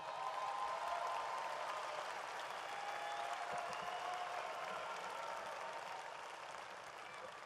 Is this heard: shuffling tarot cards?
no